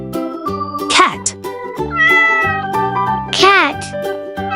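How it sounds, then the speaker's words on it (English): A cat meows twice, loud and close, long rising-falling cries set against steady background music with no voices. "cat,"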